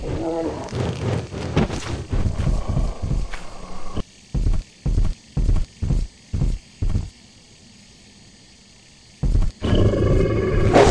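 A dog monster in the game Lethal Company lets out loud, rough growling roars mixed with talk, followed by a run of six evenly spaced heavy thuds, a brief hush, then more roaring.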